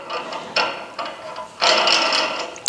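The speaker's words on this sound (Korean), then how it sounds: "나중에 조일 거 생각해서 끝까지 몽키로 조여줍니다" A monkey wrench tightens a copper pipe fitting in a close, short run of ratcheting metal clicks and scrapes. Several bursts of clicking are separated by brief pauses, and no talk is heard.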